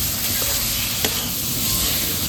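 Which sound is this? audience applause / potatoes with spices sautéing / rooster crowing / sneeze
potatoes with spices sautéing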